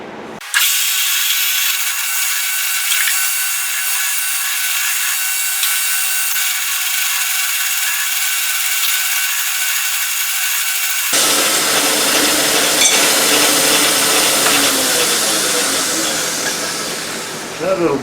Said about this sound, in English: now we need to deburr a little bit